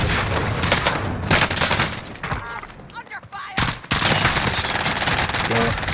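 Rapid automatic gunfire from a Call of Duty: Modern Warfare match, loud dense bursts that pause briefly near the middle and then resume with more sustained firing.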